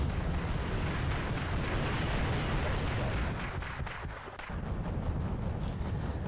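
Missile explosions from an MBT-70 tank in a video game make a continuous, loud rumbling barrage of booms and bursts, dipping briefly before resuming.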